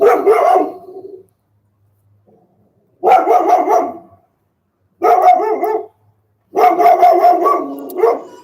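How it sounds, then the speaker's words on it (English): Dog barking in bursts, four loud close clusters of rapid barks separated by silent gaps, no talk over it. "That's someone's dog."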